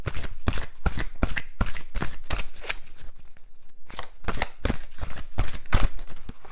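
A deck of oracle cards is shuffled by hand up close in rapid, repeated papery riffles and slaps that run almost without a break.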